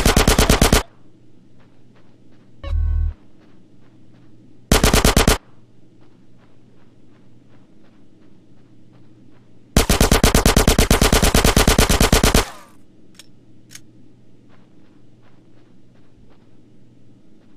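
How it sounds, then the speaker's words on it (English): Machine gun covering fire in Grand Theft Auto, loud rapid bursts: a short one at the start, two brief ones, then a long sustained volley of nearly three seconds, separated by quieter background game ambience. "Give me some fucking covering fire!"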